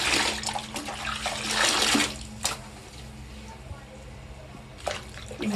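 Tap water splashes and runs steadily as a wig is rinsed, the flow surging and easing, with a voice speaking over parts of it.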